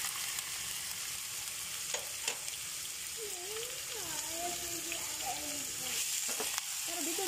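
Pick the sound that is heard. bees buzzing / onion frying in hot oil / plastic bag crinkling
onion frying in hot oil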